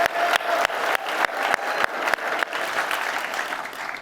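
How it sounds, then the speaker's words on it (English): A crowd at the 2022 FIDF National New York Gala applauds a performing group, a sustained round of clapping that stays loud and steady for the whole stretch, with no speech over it. "let's give one more round of applause to this amazing group that came"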